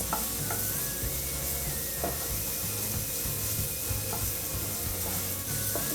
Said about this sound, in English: I will cook it for about few minutes to fry my green peas.